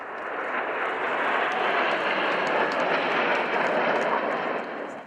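Display team jets flying at the RIAT 2015 airshow at Fairford give off a loud, steady, broadband engine roar that holds for about five seconds with no speech over it.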